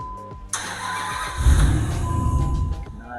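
A car being repaired cranks briefly and its engine catches, then runs loud and close with a rough, steady rumble and a slight rev.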